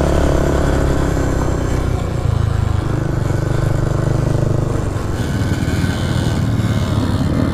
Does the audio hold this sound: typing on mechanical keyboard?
no